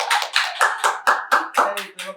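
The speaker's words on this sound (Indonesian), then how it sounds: "Tepuk tangan dulu" A small group claps hands together in short, close, loud bursts, about nine distinct claps in a quick, slightly uneven rhythm.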